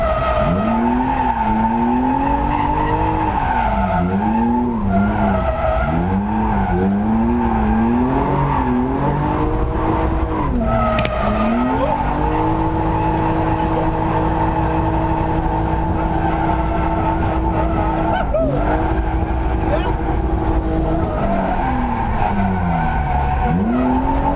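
A BMW 330i drift car skids through a corner, loud continuous tyre squeal sliding up and down in pitch over a steady engine roar that rises and dips with throttle, close and sustained throughout.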